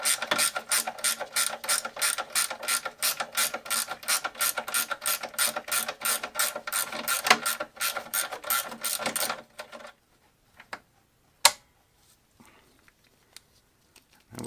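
A ratchet wrench loosens a front A-arm bolt on a 2006 Polaris Sportsman 700 ATV with a fast, steady run of crisp clicks for about nine seconds, then a few isolated taps, close up and with no voices.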